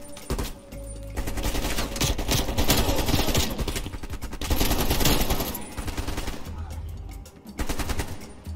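Sustained automatic gunfire in Call of Duty: Black Ops Cold War campaign, dense rattling bursts running almost continuously with brief lulls, loud and close amid battle noise.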